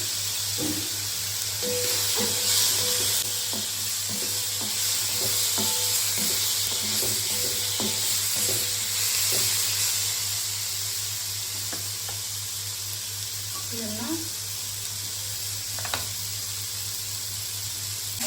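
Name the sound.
cumin seeds sizzling as added to hot pan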